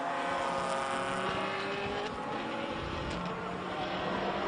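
Race cars at Killarney International Raceway roar past at dusk in a dense, continuous wash of engine noise after the field goes green again, loud and unbroken with no voices.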